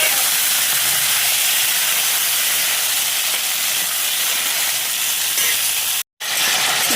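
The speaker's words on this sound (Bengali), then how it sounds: "তো তরকারি করার জন্য ফোড়নের মধ্যে 5 ফোড়ন আর তেজপাতা দিলাম।" Panch phoron spices and bay leaf hit hot oil, giving a loud, dense, continuous sizzle that holds steady at close range, broken by one brief cut near the end, no talking.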